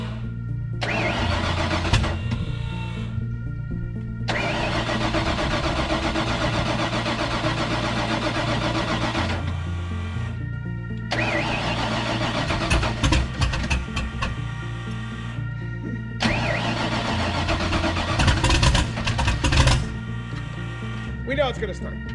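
A turbocharged 408 stroker engine in a Ford Mustang cranks and fires, settling into a loud, rough idle with revs rising and falling, broken by short pauses, as people talk over it.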